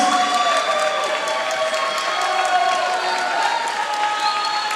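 A live crowd at an armored combat pro fight applauds and cheers both fighters in sustained, steady applause, with an announcer's voice carrying over it.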